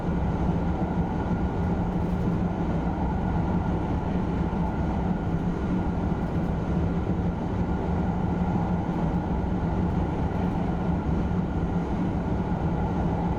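A TGV Reseau high-speed train in Train Sim World 2021 accelerates at about 125 mph down a 1% grade on the Northeast Corridor. A constant, dense rumble and wind roar continue evenly without a break, and no voices are heard.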